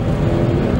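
A purple Mercedes rolls past at the Caffeine and Octane car meet, giving a brief, steady, close engine rumble with no voices over it.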